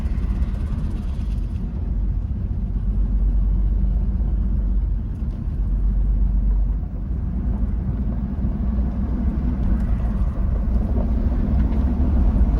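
An old auction truck's engine labors up a slight incline, giving a continuous low rumbling drone that stays loud and fairly even from start to finish, with no talking.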